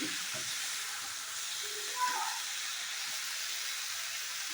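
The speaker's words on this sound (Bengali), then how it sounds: "বেগুনটা দেখো মোটামুটি ভাজা হয়ে আসছে মানে আরও কিছুক্ষণ ভাজবো" Eggplant frying in a pan before being cooked with rohu fish gives a quiet, steady sizzle and hiss that runs unbroken throughout, with one small brighter pop near the middle.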